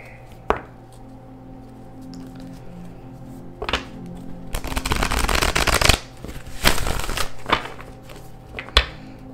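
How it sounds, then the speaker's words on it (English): A deck of tarot cards is shuffled in a long riffling burst in the middle, with a few brief taps and card handling before and after, close and fairly loud. "Let me give this deck one more shuffle here."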